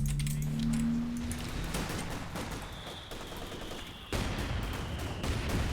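Panzer Fusilier infantry in a strategy video game fire in dense, crackling volleys of gunfire, a continuous busy clatter with a sudden louder burst partway through.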